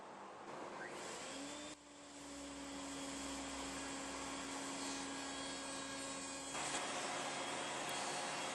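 A router on a router table with a round-over bit spins up and runs as small wooden pieces for loose tenons are fed past it, a loud steady high-pitched whine with a rising pitch at the start, continuous and without speech.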